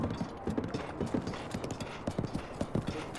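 Horse hooves clip-clop in a steady trotting rhythm across a bridge in the video game Breath of the Wild, soft and fairly quiet, repeating evenly with no talk.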